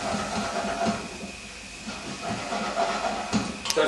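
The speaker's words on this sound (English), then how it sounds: "our spices are being fried off now" Whole spices fry in a hot pan for an Indian dish, giving a steady, close sizzling hiss with small crackles and pops throughout, and no voices.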